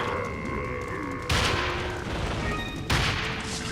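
Grenade explosions in the video game Resident Evil: The Darkside Chronicles, two loud broad booms a second and a half apart over a dense bed of in-game noise and music.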